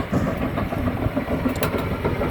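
The Hino diesel engine, about 155 horsepower at 2,000 rpm, of a Kobelco SK200-10 excavator runs steadily at a constant idle-like rumble, close by, with a dense low-frequency chug and no voices.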